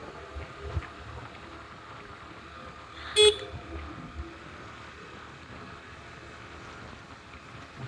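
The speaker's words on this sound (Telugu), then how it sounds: "హార్న్ కొట్టమని మళ్ళీ చెప్పారు" A car horn honks once, a short clear toot near the middle, over steady road and engine rumble on a mountain road heading to Kailash Giri, with traffic coming from both directions.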